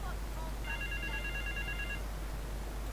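A phone in GTA Vice City gives a thin electronic ring or buzz lasting about a second and a half, sounding faint under a steady background hiss.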